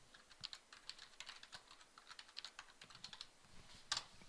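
Quiet, steady typing on a computer keyboard, a fast patter of light key clicks with one sharper tap near the end.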